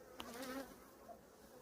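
Honey bees at a weak hive with a new queen give a faint, steady buzz with a few brief louder tones near the start, heard alone with no talking.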